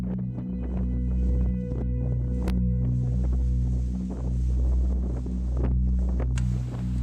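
Wind gusts buffet the microphone in rolling low rumbles, rising and falling over several seconds, with a steady hum underneath and no voices.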